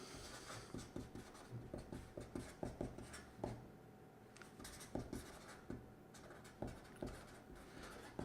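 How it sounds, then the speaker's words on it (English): A pen scratches across paper in quick, close strokes and taps, faint and steady, with small pauses between words. "I'm going to write that down."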